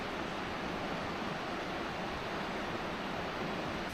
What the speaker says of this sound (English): the mouth of Blacktail Deer Creek where it intersects with the river